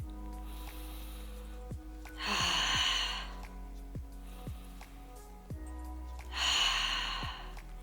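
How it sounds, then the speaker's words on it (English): Deep belly breathing during a guided meditation: two long, loud airy exhales about four seconds apart, with soft clicks and a low steady hum in between. "Maybe we can take this time to just breathe."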